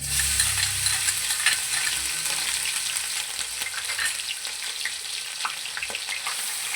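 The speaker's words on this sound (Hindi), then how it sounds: "हल्की आंच में हम इसको फ्राई करेंगे।" A paste of green chili, ginger and garlic sizzles steadily in hot oil over low heat, a continuous crackling fry with faint stirring scrapes and no voices.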